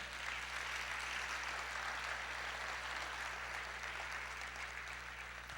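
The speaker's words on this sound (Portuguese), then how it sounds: "vamos aplaudir o Senhor." A congregation applauding during a church service, dense continuous clapping from many people that stays even and sustained throughout, heard over a low steady hum.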